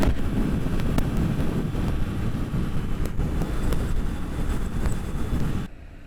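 Steady wind buffeting the microphone on a ferry crossing toward Seattle, a loud continuous rumble that cuts off abruptly near the end.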